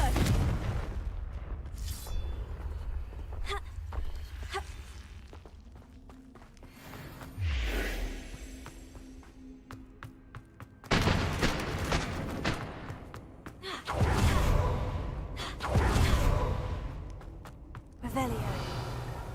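Confringo fire spell blasts in the video game Hogwarts Legacy, several loud booming explosions with crackling debris in separated bursts, over game ambience and a brief voice.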